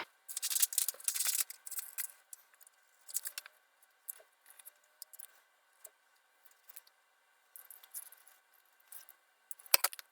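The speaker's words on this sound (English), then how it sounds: "Once you've got your tulip shape drawn, the next step will be to cut it out." Scissors cut a tulip shape out of paper, close and quiet: irregular clusters of crisp snipping and rustling, separated by short pauses.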